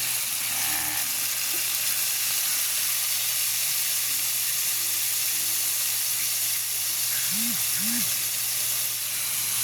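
Pork spareribs sizzling in a pan after fish sauce is poured in, a loud, steady frying hiss that continues throughout with faint kitchen sounds beneath.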